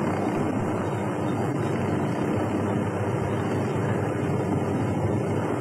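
A helicopter flies in the Ghost Recon Wildlands video game, giving off a steady, loud, continuous rotor-and-engine roar with a wind-like rush and no breaks.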